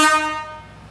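A marine-style horn fitted to a Toyota Etios car gives one loud, bright blast that fades over about a second, with no talk.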